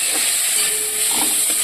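Grated onion sizzles in hot oil for a chicken curry, giving a loud, steady, close-up hiss with a few soft stirring touches.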